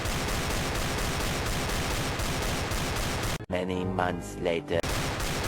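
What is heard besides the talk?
rapid Desert Eagle pistol shots in the video game CS:GO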